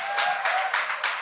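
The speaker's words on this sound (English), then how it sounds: "so give yourselves a round of applause." An audience at a live women's dinner event in Harlem, New York, breaks into a short burst of clapping and cheering, arriving in quick surging waves over about a second.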